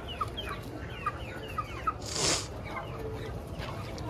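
A rooster gives a few short, soft clucks close by, with a brief rustle or flutter partway through, set against quiet background noise.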